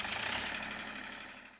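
Tractor engine running in a farm field after ploughing, a steady mid-pitched chugging idle that slowly fades as the machine moves away.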